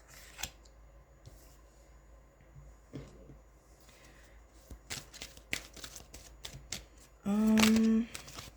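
Tarot cards are shuffled by hand in quick papery riffles and soft slaps, scattered through the clip and busiest near the middle. Quiet room tone and a brief louder burst near the end accompany them.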